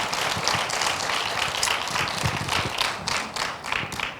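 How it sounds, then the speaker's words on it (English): Audience applause for a contestant at a Miss Geek Africa finalist presentation, dense steady clapping from a crowd filling the room for several seconds without speech. "Another round of applause for Sylvie"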